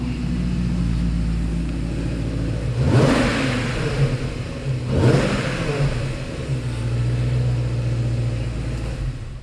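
A Jaguar S-Type R V8 with its exhaust valve open idles with a deep burble, then revs sharply twice in quick succession before settling back to a steady idle, close and loud.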